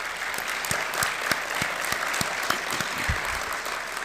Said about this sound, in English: give our trustees another round of applause